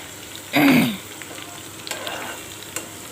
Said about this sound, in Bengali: এই যে বাগারটা দিয়ে দিলাম